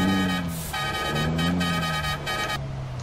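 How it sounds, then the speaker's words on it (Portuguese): A Ford Cargo truck horn in Euro Truck Simulator 2 sounds in a loud, steady tonal blast lasting nearly three seconds, with a slight dip midway, over engine rumble. "Vamos testar a buzina"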